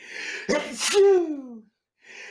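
A single loud sneeze with a sharp intake of breath, followed after a short pause by a quiet voice.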